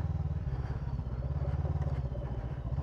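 A motorcycle rumbles along over rough, uneven ground, its engine a steady low drone with a faint clatter of the bike over the bumpy surface, heard up close with no one talking.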